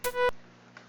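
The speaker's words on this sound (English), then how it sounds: "So you just have that little puff of white noise at the very beginning." Brief synthesizer note from a homemade synth, starting with a short burst of white noise and then fading quickly into a faint tail.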